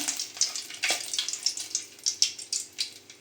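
Food sizzles and crackles in a pan while cooking chicken dishes, a soft steady frying hiss with small pops, close and alone.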